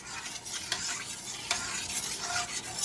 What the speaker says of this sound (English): I keep stirring it here and there.